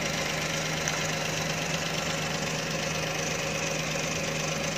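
A steady engine idles with a constant low hum and a faint rhythmic knock, unbroken and fairly close throughout.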